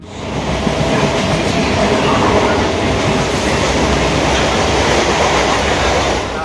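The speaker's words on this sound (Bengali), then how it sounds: "ফাইনালি আমাদের ট্রেন হচ্ছে 9:35 ছেড়ে দিয়েছে।" A passenger train bound for Sealdah rumbles loud and steady from inside the carriage, with dense clattering of wheels on track throughout.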